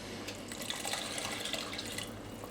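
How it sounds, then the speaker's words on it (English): One cup of water poured into a pot of chicken and bacon risotto, a faint, steady splashing trickle with small drips, quiet and close. "So we're now going to add 1 cup of just water"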